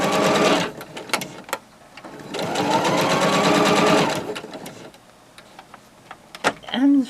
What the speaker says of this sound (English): Get the end ready, sew a bit close to my clip